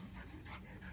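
A Border Collie sheepdog on a traditional Irish farm pants in quick, rhythmic breaths, close and steady, with no speech.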